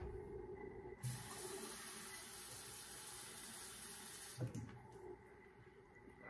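Kitchen tap water runs into a measuring cup as a faint, steady hiss lasting about three seconds, followed by small clinks and handling sounds.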